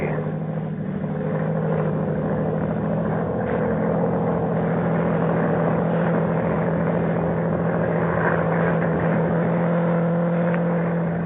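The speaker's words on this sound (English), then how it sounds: "Low down in the south, a monoplane was climbing into the heavens." A steady propeller drone from a monoplane flying overhead, used as a sound effect in a radio drama, holds at a constant level for about eleven seconds with no voices.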